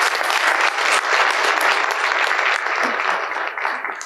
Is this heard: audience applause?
yes